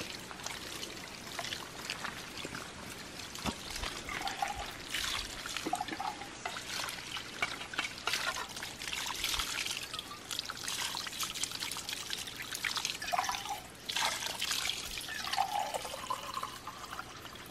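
Water trickles and pours steadily from a spring, a continuous close splashing babble with no voices.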